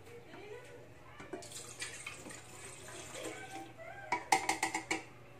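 About 400 ml of water goes into a cooking pot during a home test on an LPG gas stove, a soft running pour followed by a few sharp metallic clinks near the end.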